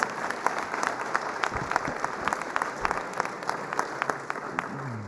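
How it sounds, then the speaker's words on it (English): A crowd at a political meet-and-greet claps, with individual hand claps standing out sharply within a loose, moderately loud patter that carries on for several seconds. "That's worth clapping."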